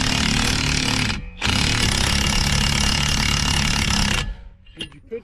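A 1963 Mercury Comet's 260 V8 runs loud and rough after its first start in over 25 years following a rat infestation, with a brief dip in the middle and cutting off near the end.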